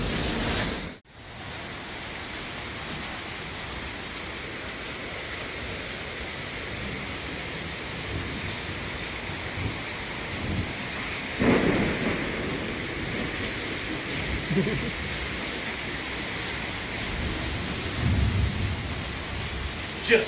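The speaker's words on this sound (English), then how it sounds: "I'm not going to go out there in that rain" Steady rain falls outside during a thunderstorm, a continuous broadband wash with a sharp crack of thunder near the start and a swelling rumble midway, with no talking.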